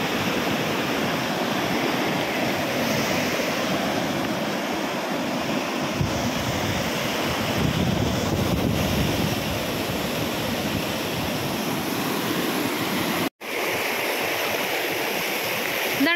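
Water rushing along a stream in a green Wayanad village just after rain: a loud, steady, close wash of flowing current that runs without a break, except for a brief dropout near the end.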